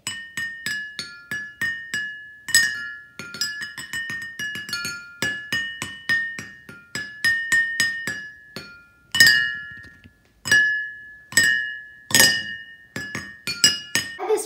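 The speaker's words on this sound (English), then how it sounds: "take your pencil or your stick or your wooden spoon and tap the ones in between. Tap them in different orders and you can make music." A pencil taps a row of water-filled glasses used as a water xylophone, ringing out a steady run of bright, clear chimes at different pitches, each note sustaining briefly before the next strike, with no voices.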